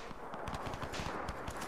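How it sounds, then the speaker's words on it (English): Gunfire rattles through a fight in the Crysis 3 video game, rapid automatic bursts pulsing at an even rhythm and sounding fairly distant, with no talk over it. "I hear a gunfight somewhere."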